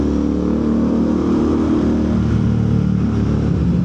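A Royal Enfield Interceptor 650 motorcycle engine drones loud and close inside a tunnel, its deep, steady exhaust note holding without a break and echoing off the walls.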